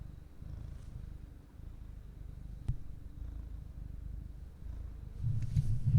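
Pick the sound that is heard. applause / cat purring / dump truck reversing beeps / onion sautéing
cat purring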